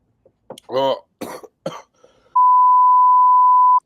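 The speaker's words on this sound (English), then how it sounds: "He held the microphone out to cough into it." A few short coughs and throat sounds close to a microphone, followed by a long, steady electronic beep.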